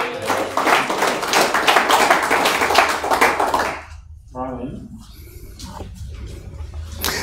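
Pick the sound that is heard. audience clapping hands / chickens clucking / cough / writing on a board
audience clapping hands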